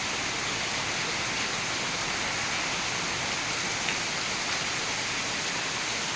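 Heavy monsoon rain pours down on a farm field in Mahabaleshwar, a constant dense roar of water that stays steady throughout with no voices.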